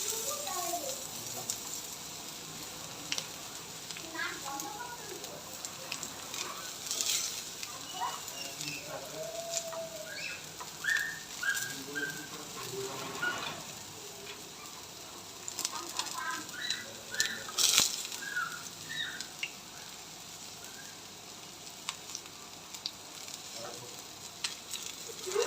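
Green chilies and yardlong beans frying in a pan, a continuous crackling sizzle with occasional stirring scrapes, while birds and farm animals call faintly in the background.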